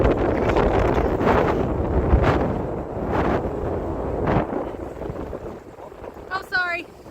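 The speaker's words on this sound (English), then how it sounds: "I'm going to leave the audio on for this piece so you guys can hear just how windy it was" Strong wind gusts buffet the microphone on a breezy Outer Banks beach during a summer vacation, producing loud, continuous low rumbling with surging bursts; voices occasionally break through and a brief high chirp sounds near the end.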